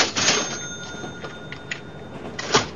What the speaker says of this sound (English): where did that cash register come from?